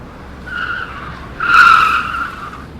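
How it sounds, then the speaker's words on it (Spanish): Car brakes slammed hard with tires screeching on asphalt, a loud squeal that rises, swells sharply mid-clip and then tapers off. "El freno entró a fondo y las llantas rechinaron sobre el asfalto."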